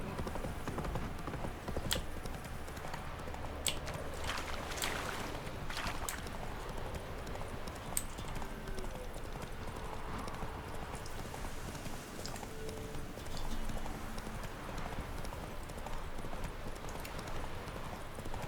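A horse ridden in The Witcher 3 trots along with steady, brisk clip-clopping hooves, a continuous rhythmic gait over soft background ambience, without talk.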